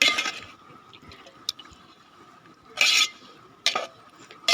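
Water is poured over chopped tapioca in a pot for tapioca biryani, giving a few short, splashy liquid bursts between quieter stretches of low stirring and bubbling.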